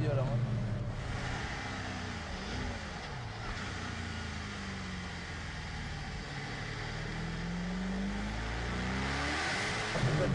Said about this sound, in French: le turbo là, faut s'y faire parce que c'est assez violent